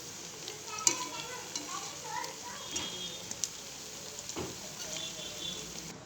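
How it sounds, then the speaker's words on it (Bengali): Fritters frying in hot oil, a close steady sizzle with scraping and stirring clicks as they are turned, fairly quiet, with a voice talking underneath. "এইভাবে এক এক করে সব বড়াগুলো ভেজে নিতে হবে।"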